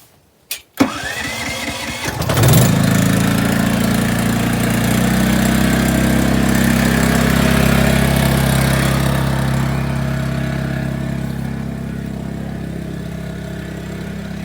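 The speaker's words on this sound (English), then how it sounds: "The generator needs to run for about 5 minutes to warm itself up and to get ready to energize the well pump" A portable generator used to power a well pump gives a couple of sharp clicks, its engine cranks briefly and catches, then runs at a loud, steady idle that softens slightly toward the end.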